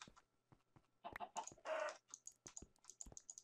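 Blocky chickens in the video game Minecraft give short clucks amid rapid keyboard and mouse clicking, with quiet gaps between bursts.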